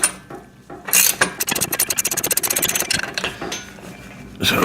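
A ratchet wrench cranks a nut down onto a bushing and washer while assembling a VEVOR pec deck and rear delt home gym machine, giving a rapid run of close, crisp metallic clicks between a few heavier clunks.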